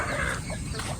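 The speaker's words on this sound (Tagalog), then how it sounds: "Free range na mga manok." Free-range chickens clucking at a resort in San Juan, Batangas, a brief, steady burst of fowl chatter lasting about a second with no voices.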